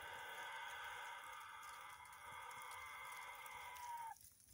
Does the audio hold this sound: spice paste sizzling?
no